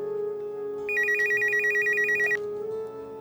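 An electronic telephone ringtone trills in a rapid warbling burst for about a second and a half, clear and close over a steady background music tone, with no talking.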